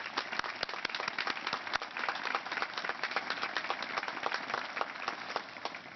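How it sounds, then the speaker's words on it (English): Applause from an audience at a women's museum statue unveiling ceremony, many hands clapping in a busy, even patter with distinct individual claps standing out, sustained and fairly close. "I'd like to give you a round of applause."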